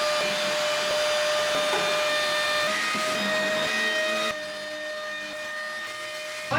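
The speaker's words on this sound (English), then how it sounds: "I'm just gonna vacuum." A household vacuum cleaner runs steadily and loud at close range during home cleaning, its whine holding a constant pitch, then dropping slightly in tone and level partway through as the motor load changes.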